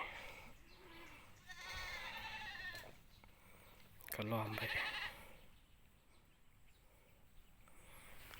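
Goats bleating on a Thai farm plot near bamboo thickets where grass is being planted, a few calls rising over ongoing conversation, with a louder burst midway.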